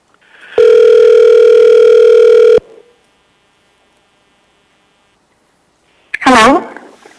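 A steady telephone dial tone sounds for about two seconds while a call is placed into a city assembly public hearing, then quiet, followed by a brief burst of voice-like sound.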